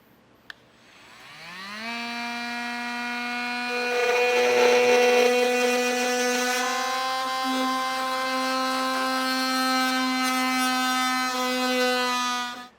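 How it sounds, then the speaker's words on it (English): An oscillating multi-tool cuts through a Mazda bumper fascia, winding up after a click to a strong, steady buzzing whine that holds for about ten seconds before stopping, with no talking. "I'm going to be using a multi-tool today."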